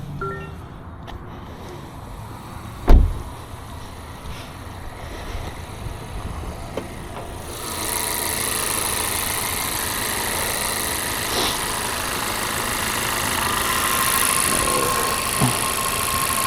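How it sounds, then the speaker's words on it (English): A 2024 Toyota Corolla engine starts with a brief sharp crank near the start, then settles into a steady, moderate idle hum that continues evenly to the end with no talking. "Let's get the engine on and unlock the hood."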